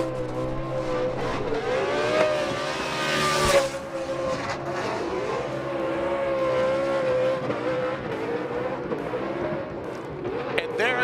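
A Formula Drift car does a celebratory tire burnout at Irwindale Speedway, its engine droning and wailing in sustained rising and falling tones with squealing tires, under an excited commentator's voice and crowd ambience.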